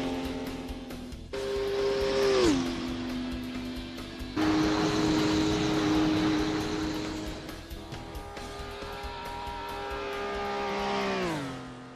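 A Porsche 935 race car engine in a racing video game revs hard through successive gears, pitch climbing and dropping at each shift, loud and close with a steady droning whine and no voices.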